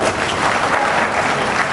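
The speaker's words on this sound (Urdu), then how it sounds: "آپ کی طرف سوچ کے تالی بجا رہے ہیں" Audience applause at a televised interview with a Punjab governor, a dense, steady burst of many hands clapping throughout, loud and close, with no talk over it.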